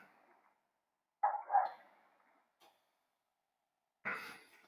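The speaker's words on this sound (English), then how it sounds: "My dog's going a little bit crazy," An excited dog gives a few quick, faint vocal bursts, sounding like yips or muffled barks with breathy sighs between them, heard from a short distance in a quiet room.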